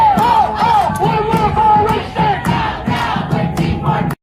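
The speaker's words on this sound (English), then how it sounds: "Detainees inside cheering for protesters surrounding the facility." Crowd of detainees inside an ICE detention facility in New Jersey cheering and yelling to protesters surrounding it, a loud continuous mass of voices with repeated shouts and whoops rising and falling, cutting off abruptly at the end.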